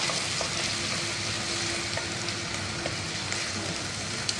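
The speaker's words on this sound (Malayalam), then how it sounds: "ഇത് ഒന്ന് ചെറിയ മാതിരി ഒന്ന് മൂക്കുന്ന വരെ ഇളക്കാം" Chopped ginger and garlic fry in a pan with a steady, even sizzle that holds at one level throughout, with faint stirring ticks on top.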